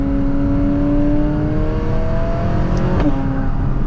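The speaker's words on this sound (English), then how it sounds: "Little first gear rip." A McLaren supercar revs hard in first gear, a loud sustained engine roar with rising harmonics climbing steadily before a brief shift-like break near the end, no talking over it.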